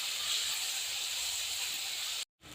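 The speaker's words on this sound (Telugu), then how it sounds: "రెండు పచ్చిమిరపకాయలు ఒక రెండు టమాటాలు టమాటా మెత్తగా అయ్యే వరకు ఉడికించుకుందాం" A pot of green chillies and tomatoes simmering for a tomato and colocasia stew gives off a steady, even hiss that cuts out abruptly near the end.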